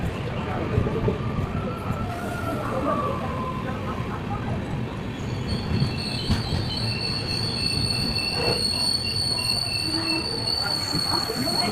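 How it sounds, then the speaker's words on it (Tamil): A train pulls into Tiruppur station with squealing wheels and rumbling cars, high metallic screeches rising as it slows, steady and fairly close. "நம்ம ட்ரெயின் வந்து ரீச் ஆயிடுச்சு மக்களே திருப்பூர்"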